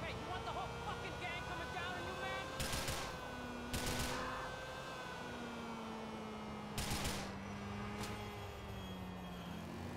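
Scattered gunshots in Grand Theft Auto IV, fired while chasing a man on a motorbike: four or so sharp cracks in ones and twos, spaced a few seconds apart over a steady engine drone and tonal background, with a voice talking throughout.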